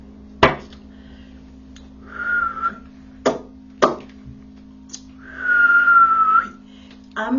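A person whistles two sustained, slightly wavering tones during a home chakra-cleansing ritual, each a second or so long, separated by sharp knocks and clicks; close and clear, with no speech.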